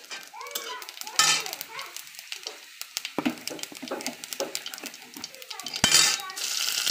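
Whole cumin seeds sizzle in hot oil in a pan among kitchen clatter. Voices, including a child's, are heard throughout, and a brighter hiss swells near the end.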